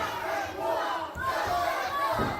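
A wrestling crowd at the Rocobar in Jonquière shouts and roars in a loud, sustained burst, with a brief dip before the noise surges again.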